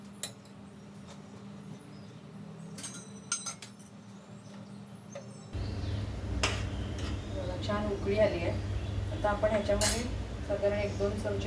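A metal spoon clinks and scrapes against a pan while skimming scum from hot sugar syrup made for semolina-coconut laddu, with light taps and scrapes amid low kitchen hum.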